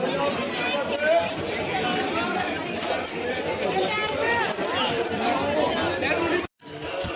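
Dense babble of a large crowd at the bustling market beside the Golden Temple, Amritsar, overlapping voices and footsteps forming a constant, fairly loud wash that cuts off briefly near the end.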